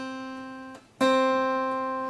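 A beginner's guitar chord rings clearly, is briefly damped, then is strummed once more and left to sustain. The sound is close and moderately loud, alone and without voices.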